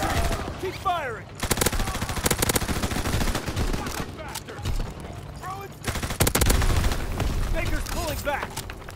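Bursts of gunfire in the World War II shooter game Call of Duty: WWII, with repeated loud volleys and rapid automatic fire, while voices call out over the shooting.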